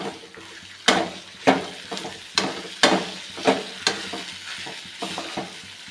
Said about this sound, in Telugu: కొంచెం కారం, కొంచెం ధనియాల పొడి, కొంచెం జీలకర్ర పొడి వేసుకుని ఒకసారి బాగా కలుపుకోవాలి.